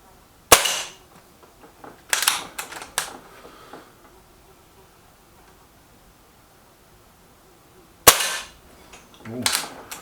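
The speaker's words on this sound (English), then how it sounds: "There's 8 shots in the magazine of this, 8 shots to centre target." Shots from a Milbro Guardian air pistol fired at a target, heard as sharp isolated cracks spaced a few seconds apart, with long quiet gaps between them.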